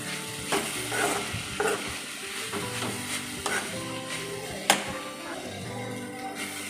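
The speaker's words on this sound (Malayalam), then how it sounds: "ഇനി കറിവേപ്പില ചേർത്ത് കൊടുക്കുകയാണ്." Curry leaves fry in a pan with onions in Kerala-style cooking, a continuous close sizzle punctuated by stirring taps and scrapes of a spoon against the pan.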